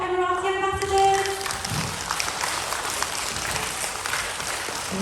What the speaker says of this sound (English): One more big clap for our Emirati ambassadors.